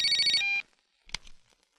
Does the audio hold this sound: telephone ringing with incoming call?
yes